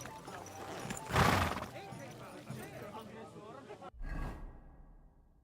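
A horse in the video game Kingdom Come Deliverance 2 moves with hoof clops, a loud whooshing swell and a neigh-like snort, while someone talks over the game sounds.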